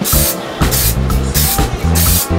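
Paint sprays in loud, close bursts across the rear bed area of a 4x4 Econoline van conversion, three hissing blasts with brief pauses between them.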